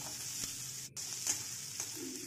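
Carrots frying in a pan for an Indian-style macaroni pasta give off a quiet, steady sizzling hiss, with a couple of light stirring taps and no voices.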